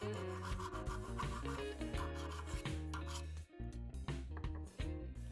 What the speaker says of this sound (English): I then use my file to remove the small brims of the drilling